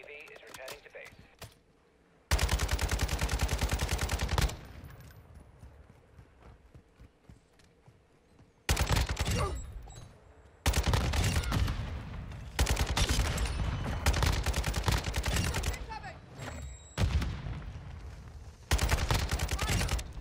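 RPK light machine gun in Modern Warfare 2 fires in long sustained bursts, loud and close, broken by short pauses, with quieter game ambience between volleys.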